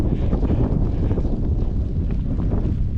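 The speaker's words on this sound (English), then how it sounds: "windy." Steady gusty wind buffets the microphone outdoors, a dense low rumble filling the clip continuously with no voices.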